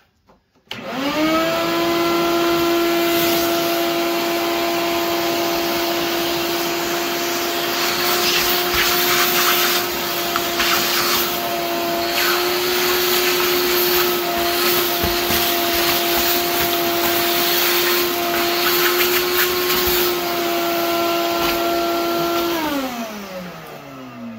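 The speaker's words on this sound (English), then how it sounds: "let's vacuum that" A vacuum cleaner whirs loudly and steadily, spinning up at the start and winding down at the end, with occasional brushing and rattling sounds.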